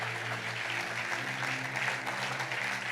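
Church congregation applauding for the Lord during an evening service, a steady dense wash of clapping filling the room throughout, with a low sustained musical tone underneath.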